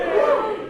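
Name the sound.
audience cheering at a comedy show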